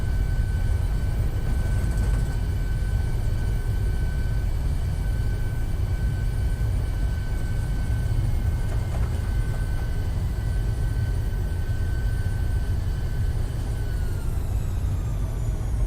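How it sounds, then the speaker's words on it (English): Thrust reversers roar steadily as a PMDG Boeing 737 lands in Microsoft Flight Simulator, a loud continuous rumble with a broad low-end wash and faint whining tones throughout. "You can hear the reversers and everything,"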